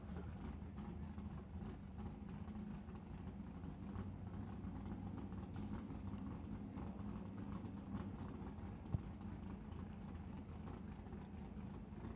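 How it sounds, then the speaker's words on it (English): A drag race car engine idles steadily at a drag strip, distant, with a continuous low rumble that holds the same level throughout, heard alone without voices. "I'm waiting for him to shut the car off down there."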